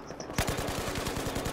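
Rapid machine-gun fire in Battlefield 4, a fast steady stream of close, punchy shots starting abruptly after a brief quiet lead-in and continuing without pause.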